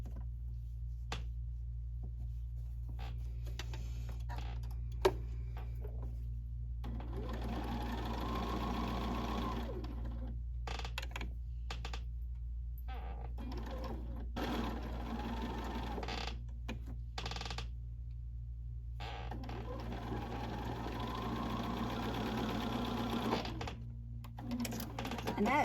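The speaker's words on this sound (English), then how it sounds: "then I'm just going to sew these together." A sewing machine stitches quilt pieces together for a sampler block, running in several bursts of steady mechanical whirring over a constant low hum, with pauses between runs.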